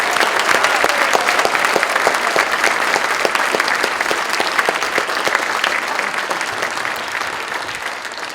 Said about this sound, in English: one more round, please, for Harvey Benstein and the all-volunteer Walnut Creek Concert Band.